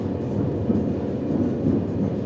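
A ballast train rolling along a railway track, a steady loud low rumble of wheels and wagons that holds constant without clear clacks or voices.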